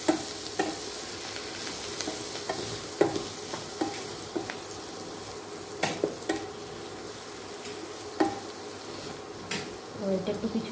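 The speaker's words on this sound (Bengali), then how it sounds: "এটাকে ভালো করে মিক্স করে দিই, লবণ আর হলুদটা সবজিগুলোর সাথে।" Vegetables with salt and turmeric frying and being stirred in a pan, a steady sizzle broken by scraping spatula strokes at irregular intervals, close and moderately loud.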